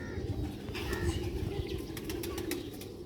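A pigeon moves about and flaps its wings in soft, irregular bursts of fluttering over steady low background noise, with quiet coos and shuffling nearby.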